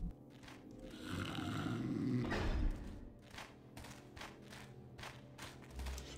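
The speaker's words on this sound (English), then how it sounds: "Snoring peacefully." A sleeping guard in Thief snores in slow, drawn-out breaths, one long rumbling snore swelling in the middle, heard close over quiet game ambience without talk.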